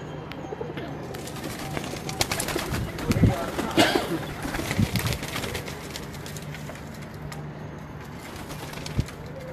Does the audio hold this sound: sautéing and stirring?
no